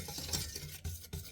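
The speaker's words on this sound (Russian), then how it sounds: "Варим на среднем огне, помешивая до закипания." A spoon stirs a condensed milk glaze in a pot over medium heat, a steady soft scraping and swishing with a couple of sharper knocks against the pot, close and continuous, no talking.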